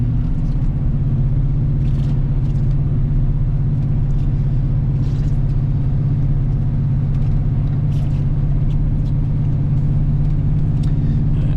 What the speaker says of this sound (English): I figured I'd just go take this truck out, make a 0 to 60 video